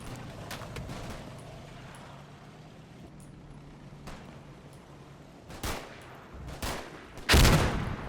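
Machine gun fire from a Second World War battle for Verrières Ridge, tearing through treetops, comes as a few loud, sharp bursts late in the clip over a low rumbling background.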